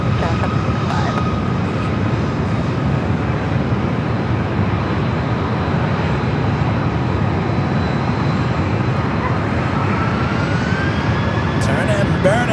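A CRJ 900 jet takes off at San Diego airport, a loud continuous engine roar with broadband rumble and a rising whine toward the end, alongside radio chatter from air traffic communications.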